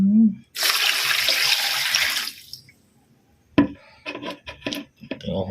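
Food is washed under a running kitchen tap, a loud steady gush of water lasting about two seconds, then silence and a series of close wet clatters and handling knocks.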